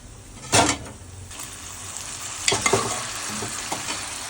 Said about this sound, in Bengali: এরপর সিদ্ধ করা ডাল আর আলুটা দেওয়া হবে।